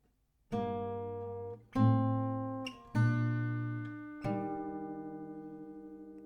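An acoustic guitar strikes four separate two-note chords from a song, each ringing out and decaying before the next, played slowly and cleanly with no talking.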